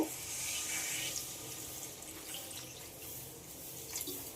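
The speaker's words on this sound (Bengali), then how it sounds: "এবার এতে পরিমাণ মতো জল দিয়ে দেব।" Water pours steadily into a cooking pan of egg and potato curry, a faint, continuous splashing stream with no talk.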